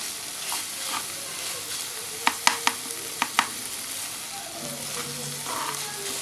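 Minced beef samosa filling sizzles steadily in a hot pan while a spoon stirs it, with a few sharp clicks of utensil against the pan partway through; no talking.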